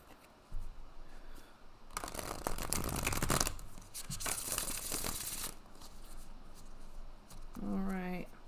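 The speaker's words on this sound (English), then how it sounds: "I just love the way that this deck shuffles" Papery shuffling of a tarot card deck in bursts, riffling and sliding with a brief crisp flutter near the end.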